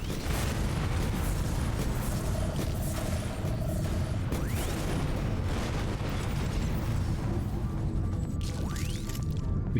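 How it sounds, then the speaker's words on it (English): Laser fire, bombs and grenades going off in The Riftbreaker, a dense continuous barrage of blasts, pops and mechanical whirs that stays loud for the whole stretch, with occasional sweeping zaps cutting through. "Do some lasers and bombs in there. Some grenades while we're at it."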